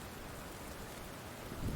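Steady rain falls in the zombie survival game The Infected, a constant hiss of drops on surfaces with a faint low rumble swelling near the end, and no voices over it.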